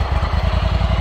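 The EFI engine of a Scag Tiger Cat 61-inch commercial zero-turn mower runs in a loud, close, rapid pulsing idle, heard alone for about a second.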